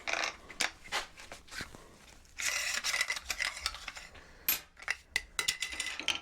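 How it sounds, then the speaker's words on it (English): Abrasive grinding discs being swapped on a DeWalt angle grinder: sharp metallic clicks, clinks and scraping handling noises, close and fairly quiet, in irregular bursts with short pauses. "Don't have any more benchmark abrasive grinding discs, so let's switch these out"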